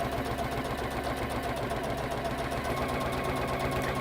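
A sewing machine stitches velvet fabric with a fast, steady mechanical whirr and rapid needle chatter, close and continuous, with no talk.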